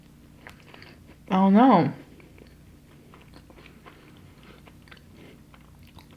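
A crunchy Milk Bar cookie is bitten into with one loud, close crunch, followed by quiet chewing, while a person speaks briefly.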